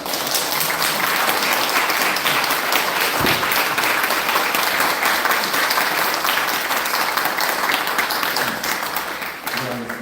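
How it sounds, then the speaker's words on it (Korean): A church congregation at a revival retreat applauds to welcome the preacher, with dense, sustained clapping that stays loud throughout and tapers slightly at the end. "나올 때까지 박수로 환영해 주십니다."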